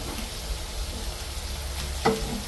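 Potato slices fry in a pan with a soft, steady sizzle, and a single brief clatter comes as a piece is turned over. The sound is near and moderate, with no talking.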